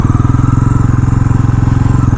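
A new 2026 Bajaj Pulsar NS400Z motorcycle idles right after a cold start, a loud, close, steady low engine thump with an even, rapid pulse.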